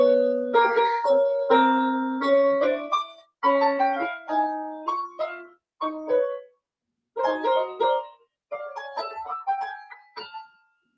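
Piano played with random, unstructured notes, scattered single tones and small clusters struck in irregular bursts separated by short silences, close and moderately loud.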